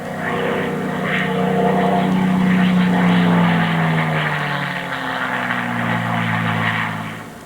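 Propeller engine drone of a WWII warbird at the Oshkosh EAA air show, a loud steady roar with a droning tone that rises and falls as the aircraft passes, continuous throughout.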